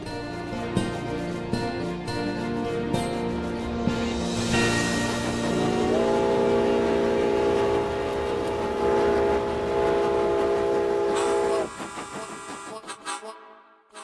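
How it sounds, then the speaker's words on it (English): The White Pass and Yukon Route scenic railway train rumbles along with a steady, loud mechanical drone and sustained horn-like tones through the middle, then the sound thins and fades out near the end. "The White Pass and Yukon Route, the scenic railway of the world."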